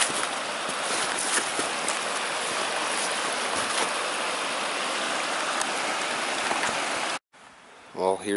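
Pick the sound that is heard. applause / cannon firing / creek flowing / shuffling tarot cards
creek flowing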